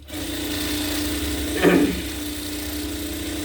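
A sewing machine hums steadily while stitching a semi Patiala salwar, a continuous close whir with a brief louder rattle midway.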